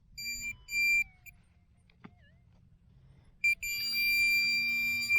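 A metal detector gives steady electronic tones: short beeps at first, a quiet gap, then a long sustained buzzing signal, with no talking.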